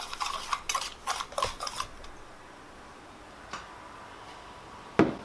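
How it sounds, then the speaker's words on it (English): Egg mixture with nutmeg is whisked in a bowl, a quick rattling run of clicks against the sides for about two seconds, then sparse taps and a final knock. "And put a little bit of nutmeg in there. And go ahead and whisk that up together."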